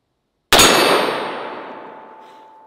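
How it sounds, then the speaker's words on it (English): A handgun bullet strikes a steel target with a single loud metallic clang. The ringing tone rings on and fades slowly over about two seconds. "I'm gonna take one more shot at the steel target."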